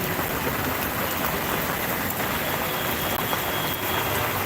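Heavy rain pours steadily at a railway level crossing in Mahakhali, Dhaka, a dense, unbroken hiss with traffic rumble blended underneath throughout.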